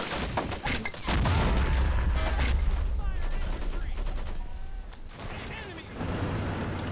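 Dense gunfire from a Men of War: Assault Squad skirmish with US troops, with rapid rifle and machine-gun bursts and booming blasts that continue without a break, loud and close, under shouting voices.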